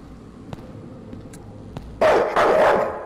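Dog in the horror video game Night People barks twice in quick succession, close and loud, after a stretch of quiet ambience with faint ticks.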